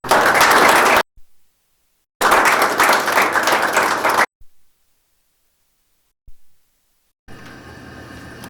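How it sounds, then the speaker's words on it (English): Audience applause for a presenter at internship presentations, in loud bursts broken by silences, then a quieter, thinner stretch of clapping near the end. "A nice round of applause for Mr. Wilson."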